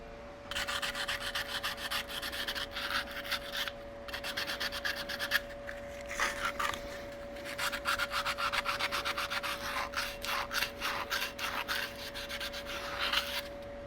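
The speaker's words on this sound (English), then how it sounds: "I'm just going to run a piece of sandpaper, like 100 grit sandpaper, and to smooth all this out" Coarse 100-grit sandpaper rubbed over an axe head in steady back-and-forth strokes, a dense rhythmic scratching with a few brief pauses, close and fairly loud over a constant low hum, with no talking.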